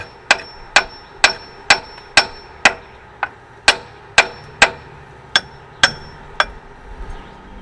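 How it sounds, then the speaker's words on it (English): Sharp hammer strikes ring out one after another at a steady pace, about a dozen metallic blows with a short ringing decay, close and loud, working under a car's hood. "where'd my hammer go?"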